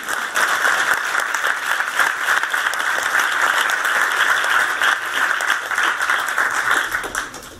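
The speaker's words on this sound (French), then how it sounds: "Vous pouvez applaudir." An audience applauds at a French stand-up comedy show, a dense, steady wash of clapping from a room full of people lasting the whole stretch at an even, fairly loud level.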